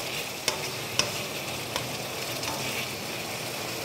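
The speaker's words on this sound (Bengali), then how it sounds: "এবার এইটা দিয়ে আমি এখন মশলাটা কষাবো যতক্ষণ না তেলটা ছেড়ে যায়।" Spice paste with sour yogurt stirs and sizzles in oil for a fish curry, a steady close frying hiss broken by a couple of sharp clinks of a spoon against the pan, with no voices.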